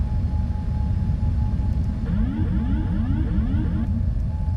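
Cockpit ambience of a PMDG Boeing 747-400F freighter in the Prepar3D V5.3 flight simulator during approach with the autopilot off: a steady low engine and air rumble throughout, with a short series of chirping warning tones partway through.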